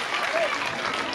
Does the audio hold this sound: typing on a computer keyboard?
no